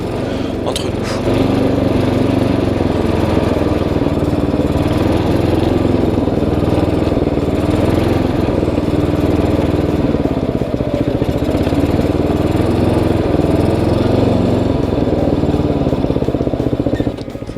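A racing lawn tractor engine runs steadily at a loud, droning pitch with a slight waver, near and continuous for the whole stretch, with no clear talking over it.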